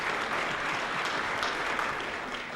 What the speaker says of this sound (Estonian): mõlemad sündmused on aplausi väärt